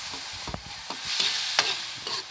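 Tomatoes sautéing in a pan for a simple provincial fish dish, a close sizzle broken by repeated spatula stirs and scrapes in an uneven rhythm.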